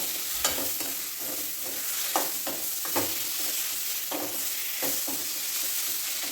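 Chopped tomatoes sautéing in a pan for an egg curry: a soft, steady sizzle punctuated by repeated scraping spatula strokes at a loose rhythm, near and moderately loud.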